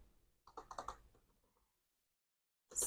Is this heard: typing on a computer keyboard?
yes